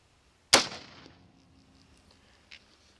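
A single sharp gunshot from a rifle firing a 50 grain frangible varmint bullet cracks out, then decays with a faint echo and a small distant report about two seconds later.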